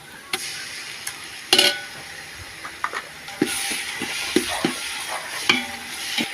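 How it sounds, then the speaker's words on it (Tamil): Onions, ginger, garlic and meat frying in a pot for Tamil biryani, with a steady sizzle and repeated scraping, clinking stirs throughout. "கிண்டிக்கிட்டே இருங்க இல்லைன்னா கீழே அடி பிடிச்சிடும்"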